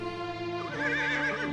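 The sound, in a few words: horse neighing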